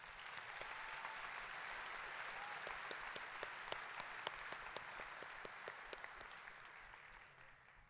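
Audience applause at a university fall commencement ceremony, a dense, distant wash of many hands clapping with a few sharper individual claps, holding steady before fading out at the end.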